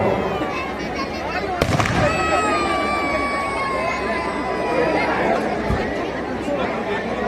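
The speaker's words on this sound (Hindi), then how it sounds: "आतिशबाजी चल रही है, सभी उसका आनंद व लुत्फ लें।" Fireworks crackle and pop amid a noisy crowd at a Dussehra festival, with excited chatter and voices throughout and one sharp burst standing out.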